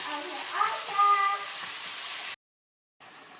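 Minced beef sizzling in olive oil with half an onion, a steady close hiss of frying that runs for about two seconds, then cuts to silence before a fainter sizzle returns.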